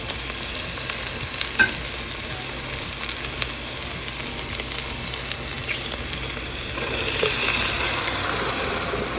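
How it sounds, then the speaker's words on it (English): Onions sautéing in a pan for jollof rice give a steady close sizzle and crackle with occasional stirring scrapes, continuous throughout with no talking. "saute our onions for a little bit. Just let them get some good color on them."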